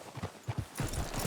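Horse hooves in the video game Red Dead Redemption 2 clop in quick uneven steps, then a burst of rustling movement follows, fairly close and without speech.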